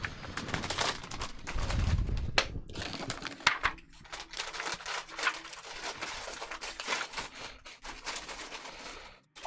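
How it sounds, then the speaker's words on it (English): Experiment card decks for a tabletop board game being shuffled by hand, a steady run of close, crisp riffling and flicking paper sounds with brief pauses. "Shuffle the A, B, and C experiment decks and place them back in their card trays."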